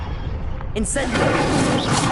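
The Incendio fire spell cast in the Hogwarts Legacy video game bursts in abruptly and becomes a loud, sustained roaring rush of flame, with a voice heard around it.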